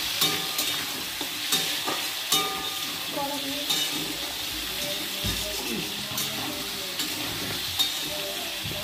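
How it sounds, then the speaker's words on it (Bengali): Food frying in a pan at an outdoor family picnic, stirred with a utensil that scrapes and taps the pan in a loose repeating rhythm over a constant loud sizzle, with brief voices nearby. "আমি নেড়ে দিই।"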